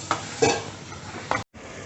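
A spoon scrapes and stirs a thick sweet mixture in a pan on the stove, a few close strokes over a faint, steady sizzle.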